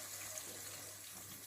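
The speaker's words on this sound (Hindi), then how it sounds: "अब हम इसमें नीम गर्म पानी डालेंगे, ठंडा नहीं डालेंगे।" Lukewarm water, about three glasses, pours steadily over meat in a pot while making nihari, a soft, continuous splashing stream that stays faint and even throughout.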